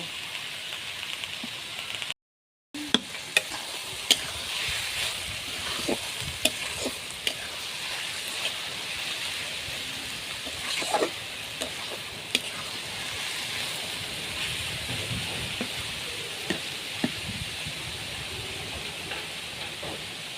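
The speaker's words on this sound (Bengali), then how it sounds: "এভাবে আমি ভাজিটা করে নেব।" Ash gourd sizzles steadily as it fries with black cumin and turmeric powder, with scattered scrapes and taps of a spoon stirring it through the pan. A brief silent gap breaks the frying near the start.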